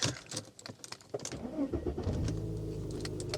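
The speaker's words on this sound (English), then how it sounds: "Right, let's fire it back up again, shall we?" A Mercedes S-Class has its engine fired up: some faint handling clicks, then the starter catches and the engine settles into a steady low idle hum, close and moderately quiet with no talk.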